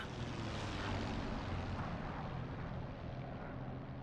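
Steady, loud drone of a propeller aircraft engine in the DCS flight simulator, a stubby, torquey little plane, holding an even roar throughout with no talk.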